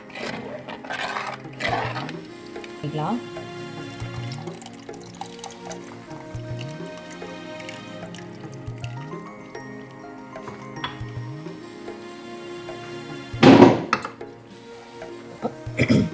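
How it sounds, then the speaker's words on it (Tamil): Tamarind water and plain water are poured into a pan of spicy flying fish curry, giving splashing, liquid pouring sounds over a steady kitchen background, with a louder burst near the end. "புளிக்கரைசல் ஊற்றினதுக்கப்புறம் நான் தேவையான அளவு தண்ணி ஊற்றிருக்கேன்"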